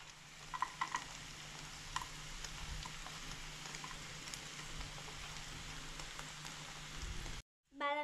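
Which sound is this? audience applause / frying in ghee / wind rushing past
frying in ghee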